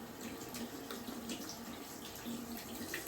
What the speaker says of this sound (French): Je vais rincer tout de suite.